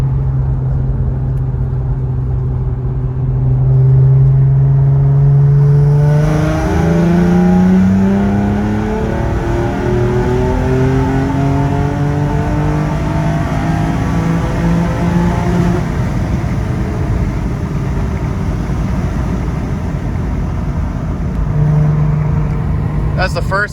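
A Nissan G35 engine is revved from about 3,000 rpm up to the rev limiter during a data log, its tone climbing loudly and then bouncing off the limiter before settling, with people talking nearby.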